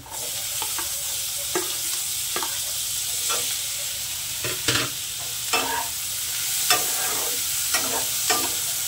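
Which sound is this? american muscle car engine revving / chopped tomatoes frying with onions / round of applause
chopped tomatoes frying with onions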